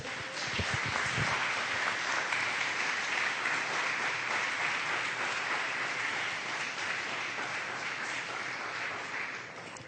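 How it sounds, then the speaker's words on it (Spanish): A church congregation applauds the Lord during a Spanish-language sermon on the Holy Spirit, with dense, sustained clapping that fills the space at an even level throughout and tapers slightly at the end. A few voices surface briefly near the start. "Denle un aplauso al Señor en este día, por favor."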